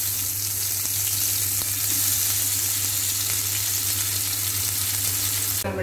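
Paneer tikka pieces fry in coconut oil in a pan, a steady close sizzle that stays even and loud throughout with no talking.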